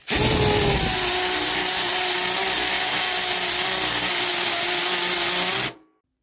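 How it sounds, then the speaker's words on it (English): A power drill runs in hammer drill mode, a loud steady whine with rapid percussive chatter held for about five seconds before cutting off abruptly. "In hammer drill mode."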